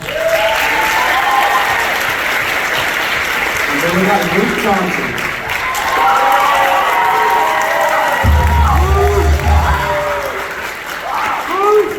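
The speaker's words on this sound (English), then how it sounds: "So give him another round of applause." An audience at a senior acknowledgement event applauds and cheers loudly and steadily, with shouts rising over the clapping while someone speaks over it through a microphone.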